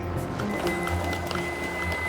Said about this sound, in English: Printer? Yeah, a little printer.